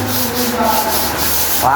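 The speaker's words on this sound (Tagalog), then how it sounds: "Liha muna siya ngayon" Steady rough rubbing of sandpaper against a surface, continuous and close, with a brief higher squeak near the end.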